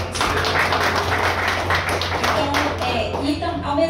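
At a writers' event, an audience claps for a preface author, a dense, sustained round of applause filling the room and tapering slightly toward the end.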